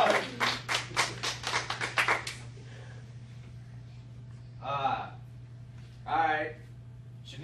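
A short round of clapping from a small audience at a Family Feud-style game, quick distinct claps fading after a couple of seconds, followed by a few scattered voices speaking.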